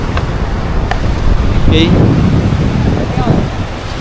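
Strong wind buffets the microphone on the Boracay beach front, a loud, gusty low roar that holds throughout, with a voice speaking briefly over it.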